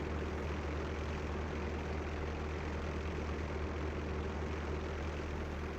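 A Spitfire's engine drones in the WWII Online flight game, a dense, steady low roar of propeller and motor that holds unbroken and fairly loud with no speech.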